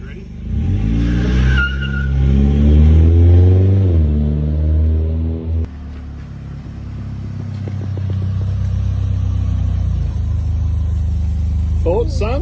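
A barn-find Nissan S13 Silvia being driven, its engine loud and close as it revs up and down through several rising and falling pulls, then settles into a lower rumble.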